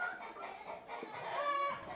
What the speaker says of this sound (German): Seit 2011 gibt es hier Legehennen.